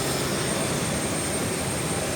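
A chartered airplane sits on the tarmac at Punta Arenas, Chile, its engines giving a steady, moderately distant whining roar with no voices.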